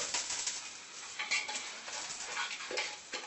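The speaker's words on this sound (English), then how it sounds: "I'm going to give this a quick stir." Moong masoor dal is stirred in a pot on the stove just after a tadka is poured in, giving soft, faint spoon scrapes and light clinks over a quiet sizzle, with no talking.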